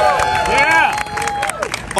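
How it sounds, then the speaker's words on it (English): A crowd applauding and cheering at a New York mayoral campaign rally on a Manhattan rooftop in Hell's Kitchen, with scattered claps and close, excited voices shouting over the noise. "Let's give them a round of applause."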